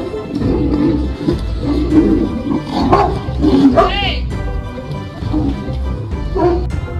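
A tiger and a liger fight, giving off repeated loud roars, snarls and growls in a continuous, chaotic struggle, with a few higher yelping cries mixed in.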